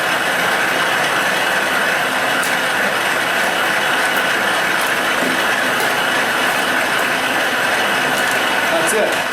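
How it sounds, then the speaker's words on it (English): Grain mill milling Vienna malt and pale chocolate malt in a brew-in-a-bag setup: a loud continuous grinding and rattling drone, steady throughout, with a voice speaking beneath it. "That's it. Done milling the grains."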